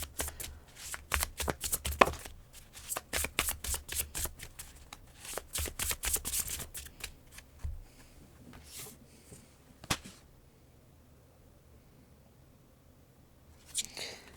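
Tarot cards shuffled by hand during a reading: rapid, crisp riffling bursts and flicks in an irregular rhythm, then sparser slaps and a few soft thuds as cards drop, all close and without talking.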